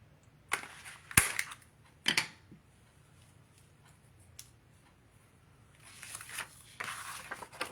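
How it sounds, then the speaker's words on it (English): Scissors cut a notch in scrapbook paper for a gift album pocket: a few crisp, close snips, then soft paper rustling and handling sounds. "I'm going to cut my third notch."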